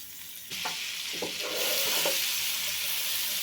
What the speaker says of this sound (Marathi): सॉससाठी आपण हा पॅन घेतला आहे त्याच्यामध्ये आपल्याला आता बटर टाकायचं आहे